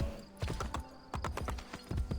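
Galloping horse hooves in Assassin's Creed Brotherhood, a rapid clip-clop rhythm pounding close and loud in quick bursts with brief pauses between strides.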